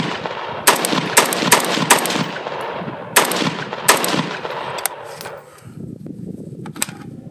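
A 5.56 Zastava M90 AK-pattern rifle fires a series of loud, sharp single shots at an uneven pace, each crack trailing into echo over steady outdoor background noise.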